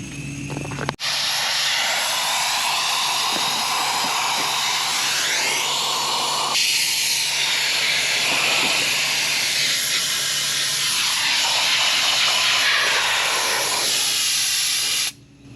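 A Harbor Freight sandpot sandblaster roars with a steady, loud high-pressure hiss of air and abrasive, its tone shifting midway, then cutting off abruptly at the end.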